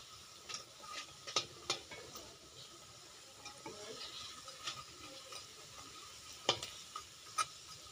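Tomato piyaji fritters fry in hot oil while being turned repeatedly, a low steady sizzle broken by sharp clicks and scrapes of the turning utensil, no voices.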